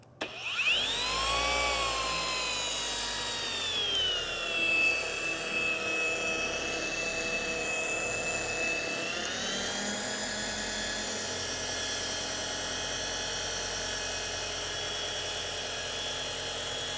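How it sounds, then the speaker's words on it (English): Dual action polisher fitted with a red ultra fine foam finishing pad on its second speed setting hums steadily and close by. The motor rises at the start, then drops to a lower, even drone partway through and keeps running. "with a dual action polisher, I have this set on the second speed setting"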